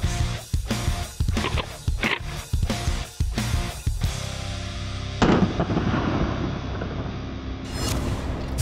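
Handgun shots ring out at shooting practice, a rapid series of loud sharp reports over the first four seconds, then one more blast and a lingering rumbling tail.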